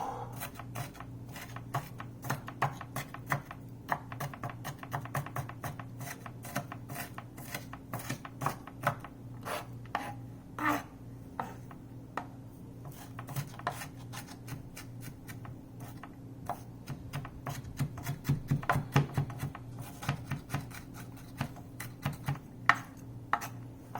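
A knife cuts Brussels sprouts on a board in a quick, steady run of close, crisp taps and chops that keeps up throughout, over a low background hum, with no talking.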